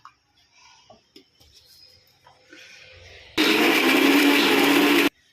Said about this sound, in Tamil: மிக்சியில் தேங்காய், கசகசா, முந்திரி பருப்பு, ஒரு 10 ரூபா வாங்கின பருப்பு போட்டு அரைச்சிட்டோம்